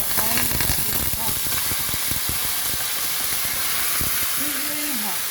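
Kidney pieces sizzle and spit in hot oil in a pot for a Jamaican breakfast, a continuous frying hiss with scattered crackles and pops and a few stirring clanks throughout.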